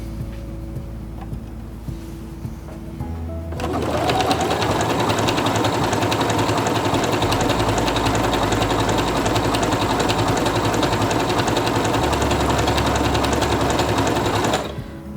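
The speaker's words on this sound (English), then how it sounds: "I'm going to stitch out the way it is right now." A Quantum Stylist 9960 sewing machine stitches out a pattern after a quiet start, its rapid needle chatter and motor hum running loud and steady for about eleven seconds before stopping.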